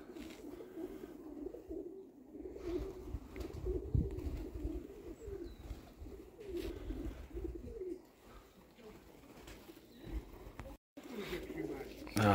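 Domestic pigeons coo in repeated low, throaty phrases, close and steady, while people talk over and between the calls in an outdoor setting.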